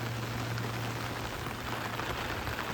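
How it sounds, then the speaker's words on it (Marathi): Dense, steady monsoon rain pours down close by over flooded fields, a continuous rushing hiss with no pauses or voices. "आता पावसाचा जोर वाढलो म्हणजे मगापेक्षा जरा पाऊस जोरात पडूक लागलो"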